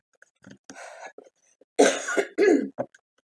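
A couple of harsh throat-clearing bursts close to the mic, with a few smaller breathy sounds before them and no speech.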